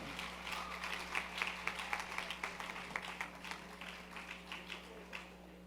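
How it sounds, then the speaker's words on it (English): Hands clap quickly in the audience of a corporate annual awards ceremony, moderately distant and somewhat quiet, easing off toward the end over a low steady hum. "Keep the applause going, man."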